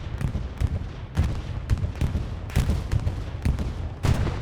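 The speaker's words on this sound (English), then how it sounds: "Strafing run was called in." A strafing run of gunfire in Hell Let Loose, a rapid series of sharp cracks and thuds repeating roughly every half second, close and loud over a rumbling battlefield background.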